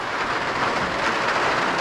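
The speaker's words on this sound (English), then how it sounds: "So it is raining hard right now." Heavy rain pours steadily in Nagarkot, Nepal, a dense, loud, unbroken hiss with no pauses or other sounds over it.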